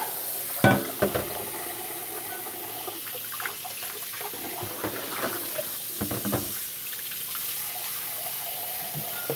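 Water poured into a cooking pot for Puerto Rican-style scalloped potatoes, a steady splashing stream with a few sharper splashes and clatters, close by and moderately loud, with no talking.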